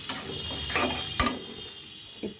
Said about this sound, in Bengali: তো সেই সময়টা পেঁয়াজটা আরও একটু ভাজা ভাজা হবে